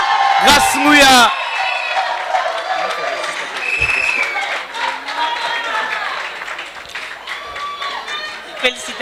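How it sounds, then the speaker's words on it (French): An audience at the Miss Francophone 2017 pageant applauds the crowned winner, with loud clapping, whoops and cheers spread through the room while a presenter speaks over a microphone above the crowd noise. "Applaudissez s'il vous plaît, Grace Ngouya"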